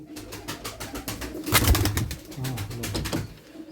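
Pigeons in a loft coo in soft repeated throaty calls, several birds close by, with a flurry of louder rustling or wing movement midway and no talk.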